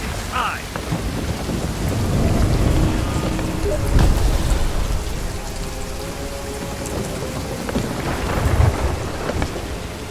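A video game thunderstorm: steady rain patters over rolling thunder with a sharp crack of lightning striking a spire, loud and continuous throughout.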